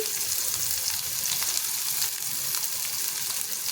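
Chopped garlic, onion and chili sizzle in hot oil in a pan while being stirred, giving a loud, dense, continuous hiss with faint scraping, close up and without talk.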